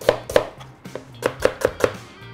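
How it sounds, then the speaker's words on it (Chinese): A knife chops leek or scallion on a cutting board in a series of crisp, close knocks, two quick strikes, a pause, then four evenly spaced chops. "大葱呢，我们也是要取一部分来把它切碎的"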